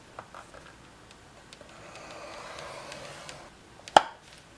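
Cardstock is scored on a scoring board: faint scraping strokes and light taps, ending in one sharp, close click or snap near the end.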